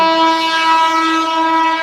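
A train at Ghatshila station sounds a loud, sustained horn for about two seconds, a steady multi-tone blare with a faint rolling rumble beneath it and no voices.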